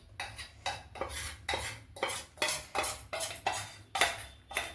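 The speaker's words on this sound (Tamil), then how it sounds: "இப்படி நல்லா கலக்கணும் பொறுமையாக." Chocolate and butter are stirred together in a bowl with a spoon, making about nine evenly spaced scraping strokes, close up and fairly quiet, with no voices.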